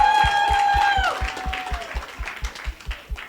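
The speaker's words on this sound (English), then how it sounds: "Let's clap for Evelyn." Applause from an audience at a women's entrepreneurship programme graduation, heard as a steady run of separate, fairly near claps. A clear sustained voice or tone is heard over the opening second.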